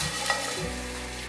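Tempeh sizzles in a hot oiled pan, a steady, close frying hiss lasting the whole brief moment with no voices.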